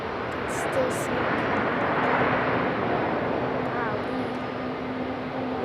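An airliner at Raleigh-Durham International Airport produces a steady, broad jet roar that swells slightly and then fades. A voice talks over it, close to the microphone.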